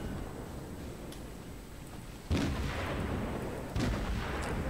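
Warship guns fire in the naval combat game World of Warships, two heavy booming salvos a second and a half apart rising out of a steady, faint background rumble.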